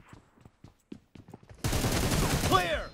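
M762 rifle fire in PUBG Mobile: a few sparse clicks and short sounds first, then a loud burst of rapid gunfire with hit effects that rattles on continuously, with a brief rising whine near the end.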